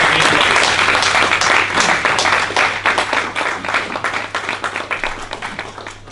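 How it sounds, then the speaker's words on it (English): An audience gives warm applause for a speaker at a lecture on business lessons from Indian scriptures, steady, full clapping that gradually thins into separate claps as it fades. "please join me for a warm round of applause for Dr. Vinodwala"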